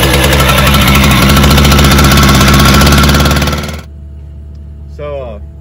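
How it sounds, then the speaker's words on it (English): Loud continuous hammering of a jackhammer or breaker, breaking out old concrete about 10 inches deep to dig the foundation for a block retaining wall, runs for nearly four seconds, then stops abruptly, leaving a quiet hum with a brief voice. "So, breaking this concrete out here, it came out real easy."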